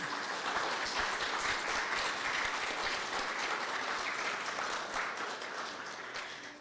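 An audience applauds a panel at an annual forum on sustaining local food and water connections, a steady dense wash of many hands clapping that holds for several seconds and tapers slightly at the end.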